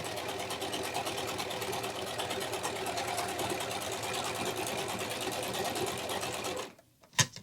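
A Singer S010L household overlock sewing machine stitches fabric with a fast, steady mechanical whir and rattle, running continuously before stopping abruptly, followed by a couple of small clicks.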